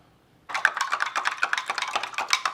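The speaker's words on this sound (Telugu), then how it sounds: "పంచదార కరుగుదానికి తిప్పుతున్నానండి" A spoon stirs sugar into a glass of water, starting after a short silence with rapid bright clinks against the glass in a quick, uneven rhythm, close and alone.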